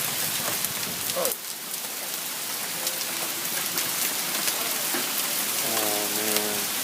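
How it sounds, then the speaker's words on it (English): Golf-ball-sized hail pours down in a loud, dense, continuous roar of impacts on outdoor surfaces, with brief voices heard faintly beneath it. "It's been hailing for like 5 minutes. Golf ball size hail."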